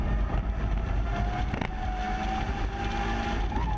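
A race car in the Slingshot Racing Cup diving into the final turn, a steady droning engine roar that holds the whole time, with a brief sharper pitch change partway through as it shifts speed.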